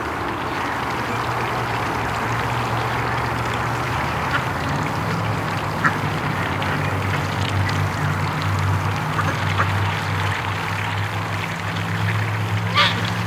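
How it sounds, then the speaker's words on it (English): Ducks honk and quack returning at a lake, their calls scattered and fairly close over a constant loud rumble of nearby traffic and drilling. "Watching the ducks come home."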